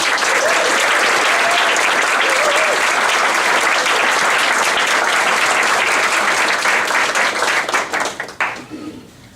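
Audience applause at a school district board of education meeting, steady and full for most of the span, then thinning into scattered claps and fading out near the end.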